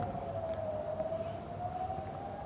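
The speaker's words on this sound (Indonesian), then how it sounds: "sirene peringatan serangan Iran terus berbunyi tanpa henti" Wailing civil defense air raid warning siren in Eilat, one steady sustained tone with only slight pitch drift, distant and fairly faint over a low background rumble, with no voices.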